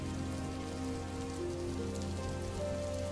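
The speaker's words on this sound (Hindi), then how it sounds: "पूरी रात बारिश होती रही।" Steady, even rain falls on a surface through the night, a continuous soft hiss of drops with no voices over it.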